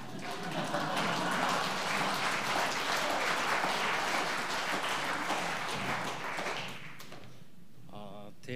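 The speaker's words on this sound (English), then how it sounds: "Let's give a big round of applause to Ngāti Porou." A large conference audience breaks into warm applause, a dense, sustained roar of clapping that fades after about seven seconds. A voice begins speaking as the applause dies down.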